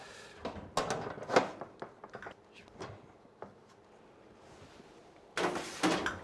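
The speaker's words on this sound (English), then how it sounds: "And I just open the door" A Convotherm mini combi oven door in a fast food restaurant kitchen is opened, giving several close clicks, clunks and latch knocks in short bursts, with quieter gaps between.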